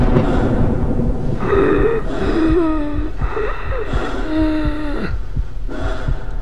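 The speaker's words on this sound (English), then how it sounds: "Breathing. Breathing is stereo." Stereo breathing from the video game Half-Life, heavy rhythmic gasping breaths, close and loud, over a low throbbing hum with steady pulse-like thumps.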